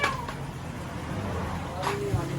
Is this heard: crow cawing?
no